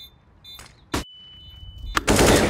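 Gunshots in Counter-Strike: Global Offensive, a few sharp cracks including one at about one second and a louder burst near the end, close and punchy over quiet game ambience.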